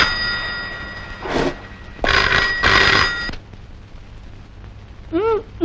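A telephone bell rings in short, loud, repeated bursts in a Telugu film scene, followed by a brief softer electronic chime near the end.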